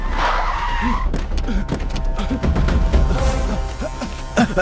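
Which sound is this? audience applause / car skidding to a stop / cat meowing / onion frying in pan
car skidding to a stop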